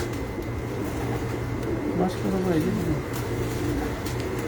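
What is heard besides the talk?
pigeons cooing on a rooftop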